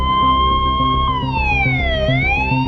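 An emergency siren wails loudly and close, its pitch sliding down and back up over a low pulsing tone, with no other sounds.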